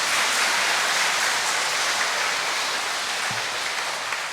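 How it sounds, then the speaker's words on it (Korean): A church congregation claps during a special lecture for a parish fiftieth anniversary, a steady wash of applause from a large room that holds evenly, with no voices. "박수 한번 치세요."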